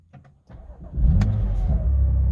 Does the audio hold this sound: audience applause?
no